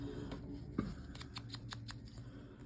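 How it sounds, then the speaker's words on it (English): Scissors snipping paper at a crafting desk while making junk journal ephemera: a quick series of soft, close cutting clicks, fairly faint, with no voices. "give it a little snip with my scissors"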